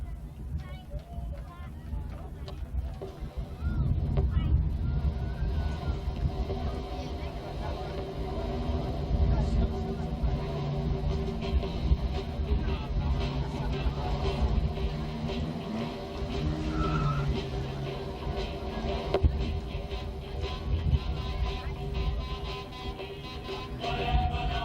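Rookie class banger racing cars running a heat at Bovingdon Raceway, a steady loud engine roar with tyre skids and scrapes throughout, crowd babble in the background.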